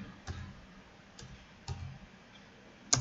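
A computer keyboard clicks sparsely, with a few separate, soft keystrokes spaced apart and a sharper final key press, close and quiet, without speech.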